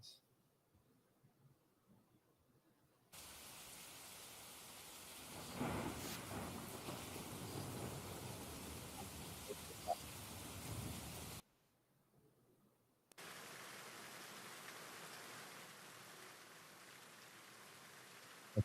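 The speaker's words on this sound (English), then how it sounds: "you want to play rain sounds" Recorded rain plays as a soft, even hiss of falling drops. It breaks off briefly for a quiet gap and then resumes at the same steady level, with a faint low swell partway through.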